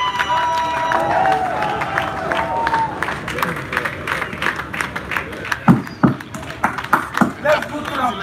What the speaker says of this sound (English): Can we keep that applause coming for him, please?